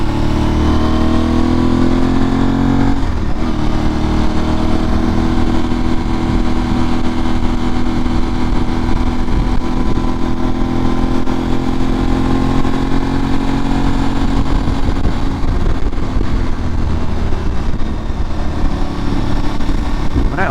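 An Aprilia Tuareg 660 motorcycle engine hums steadily and loudly while riding, its smooth drone rising and easing slightly as the throttle is rolled on and off, with wind noise throughout.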